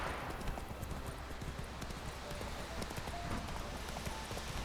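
Hooves of the horse Roach clip-clopping steadily through The Witcher 3 video game, a continuous rhythmic patter under game ambience.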